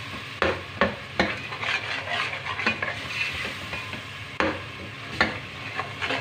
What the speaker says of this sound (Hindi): उनकी अब करेंगे भुनाई अच्छी तरह से सब मसालों की